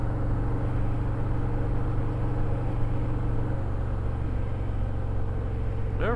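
A motorcycle engine idles with a steady, even low rumble, close and continuous and without revving.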